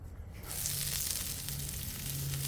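Oil and sliced vegetables, onions among them, hit a hot Blackstone griddle and break into a sudden loud sizzle that holds steady and close, with a faint low hum underneath.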